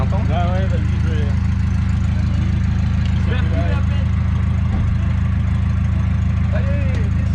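A vehicle engine idles steadily and loudly throughout, a constant low rumble with no change in pace, while people talk over it now and then.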